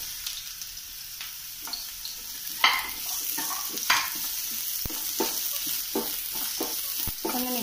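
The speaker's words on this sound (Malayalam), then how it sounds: "ഇനി നമുക്കതിലേക്ക് ചെറുതായി അരിഞ്ഞ് വെച്ചിരിക്കുന്ന വെല്ലുള്ളി ആഡ് ചെയ്ത് കൊടുക്കാം." Finely chopped garlic fries in hot oil in a pan, a steady close sizzle broken by frequent scraping and tapping of a spatula as it is stirred, with no voices.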